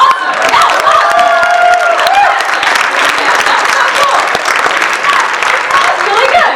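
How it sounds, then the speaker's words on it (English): A dense crowd claps and cheers steadily, with whoops and shouts rising through continuous applause close by. "can we get a second round of applause for that guy?"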